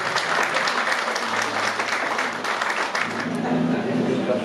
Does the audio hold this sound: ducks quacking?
no